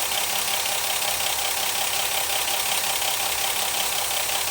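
Ford Granada 3.0GL automatic with a 3-litre V6 idling, a steady low rumble with a faint regular ticking knock, even and continuous, no talk over it.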